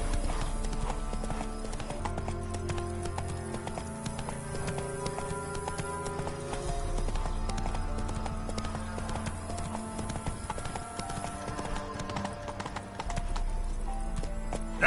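Roach, a horse in The Witcher 3, trots with steady clip-clop hoofbeats running throughout over a dense, continuous bed of game music and ambience.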